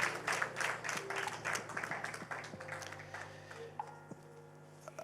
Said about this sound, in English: Can we please give him a huge round of applause?